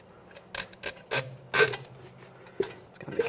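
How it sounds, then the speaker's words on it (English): Rubber boot being slid over the inner tie rod end on a 2009-2014 Nissan Maxima power steering rack, giving a series of short, close rubbing and scraping bursts with brief pauses between them. "Let's start sliding this over the inner tie rod end."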